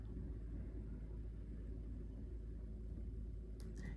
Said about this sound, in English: You might hear some cars going by the street here